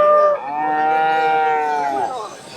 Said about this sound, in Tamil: இதெல்லாம் பாருங்கள் கண்ணுக்குட்டி